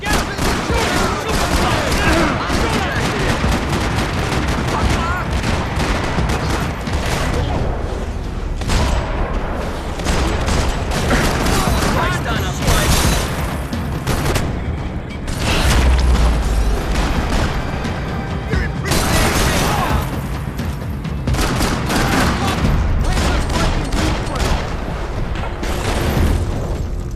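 A shootout with a cop in Max Payne 3 fills the stretch with loud, sustained gunfire, dense volleys, and occasional heavy booms. Voices shout over the noise at times.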